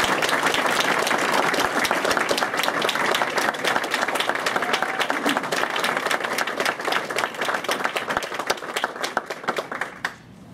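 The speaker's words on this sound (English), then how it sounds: "Let's give them a round of applause." Sustained audience applause at a civic event before a mayor speaks, steady dense clapping from a sizable crowd that thins into scattered claps near the end.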